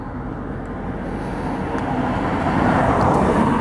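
A 1956 Chevy 210 with a 502 big block driving at speed, a steady broadband engine and road roar that swells gradually louder, with no talk.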